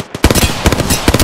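Hemlock gun firing in a video game: three loud, sharp bursts of rapid shots spaced about half a second apart, close and dominant.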